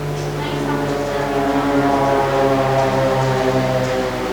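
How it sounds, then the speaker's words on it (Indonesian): An airplane flies overhead as a loud, steady droning roar with strong humming engine tones that persist for several seconds, with people talking faintly beneath it. "Serem juga ya bunyi pesawat ya."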